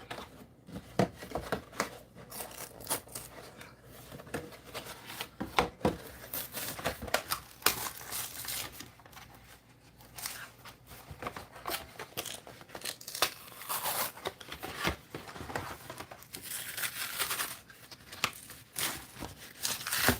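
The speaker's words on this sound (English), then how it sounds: "I have some cereal boxes here that I'm going to cut up" Cardboard cereal boxes are cut up with scissors in a long run of crisp snips, crinkles and tearing rustles, close and moderately loud, irregular and almost unbroken, with no voices.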